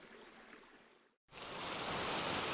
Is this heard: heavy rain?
yes